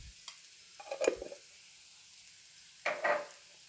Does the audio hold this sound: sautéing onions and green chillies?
yes